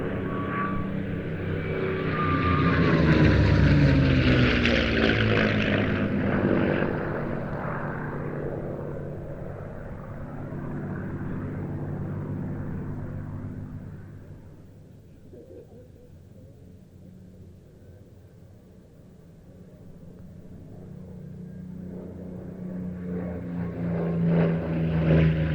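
A TF-51D Mustang warbird flies past at an airshow, its propeller engine swelling loud on the approach, fading as it moves away, then building again as it returns.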